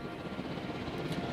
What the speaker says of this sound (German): Dann schnappen wir uns mal mit T hier den anderen ACU-Helikopter.